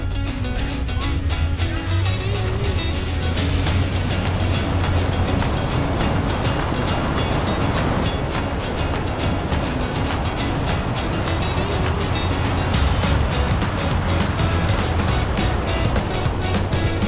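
Several inexpensive SUVs launching side by side in a drag race, engines roaring loudly as they accelerate through the gears, with rushing wind and road noise growing and holding for a long stretch.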